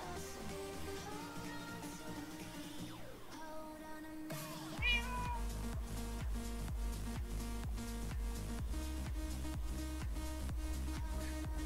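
A black cat in Minecraft gives a meow against steady game music with a rhythmic beat, the call rising briefly out of the mix.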